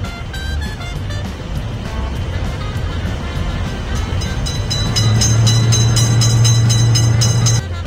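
A cartoon train passes a lifting gate at a car crossing in a children's game, a continuous rolling rumble that swells louder near the end, with a sustained horn-like tone and rapid rhythmic clacking.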